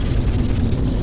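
A grenade blast in the Call of Duty: Modern Warfare 3 campaign, a loud, close, rumbling explosion that fills the whole moment with dense low roar and no talk.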